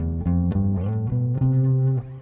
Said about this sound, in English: Check it out. Here's the scale.